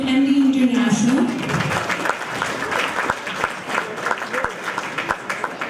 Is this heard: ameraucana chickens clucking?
no